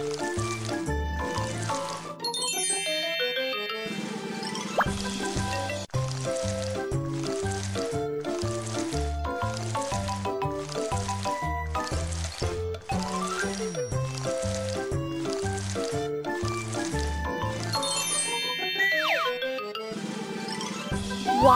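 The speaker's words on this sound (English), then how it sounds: "Apply the etching gel to smooth out the tooth." Squishy, liquid-sounding effects as etching gel is smeared onto a tooth in the Cocobi dentist cartoon game, heard steadily beneath loud, continuous, upbeat background music.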